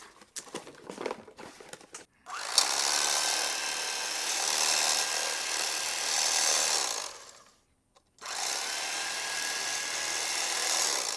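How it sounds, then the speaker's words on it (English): An old 1980s or 1990s electric kitchen knife slices through car seat foam during a torn seat repair. It gives a steady, close buzzing whir in two long bursts split by a short pause, after some brief rustling and handling noises. "one of the best things to use is old, like those 80s and 90s electric kitchen knives"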